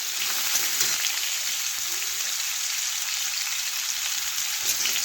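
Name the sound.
cut potatoes and carrots frying in hot oil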